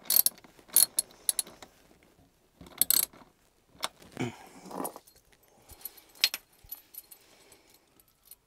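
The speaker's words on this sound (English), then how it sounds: "Just need to tighten that one up a little bit." Soft intermittent metallic clicks and rattles of a ratchet tightening battery terminal connections in a campervan 12V electrical setup, close and quiet, in short bursts separated by pauses.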